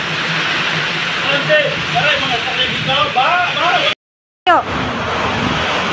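Typhoon Kristine's storm winds roar steadily and loudly in Lemery, Batangas, a broad continuous rush like heavy surf, briefly cut off before resuming, with someone shouting over it.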